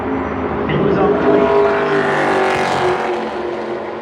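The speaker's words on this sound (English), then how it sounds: "Allgaier easing his car around this racetrack here in Phoenix." A NASCAR Xfinity race car laps Phoenix Raceway during championship qualifying, its engine a steady loud drone that swells slightly as it works through turns 3 and 4, with a commentator talking over it.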